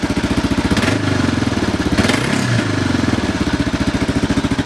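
A 1991 Suzuki DR650 motorcycle engine runs close by with a loud, steady single-cylinder thump, the revs rising and falling slightly a couple of times while it tends to hang at elevated RPM.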